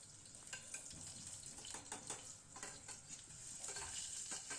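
Cinnamon stick, bay leaf, cloves and slit green chillies fry in hot oil, giving a steady close sizzle with scattered crackles and light stirring scrapes, with no voices.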